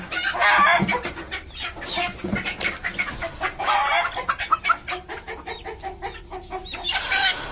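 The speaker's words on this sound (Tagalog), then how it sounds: "Ayan mga manok dito, ayan. Ang dami nila." Many chickens cluck and squawk close by, a busy, overlapping flock chatter with sharp bursts, no voices.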